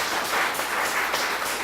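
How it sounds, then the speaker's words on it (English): Audience clapping together in a dense, steady round of applause, a broad wash of hand claps filling the room with no speech over it. "I want us to clap for yourself."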